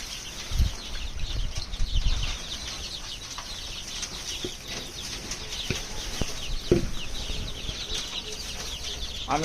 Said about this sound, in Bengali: এখন আপনার মুরগির খাওয়াবো